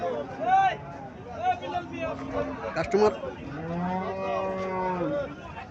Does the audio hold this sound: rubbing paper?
no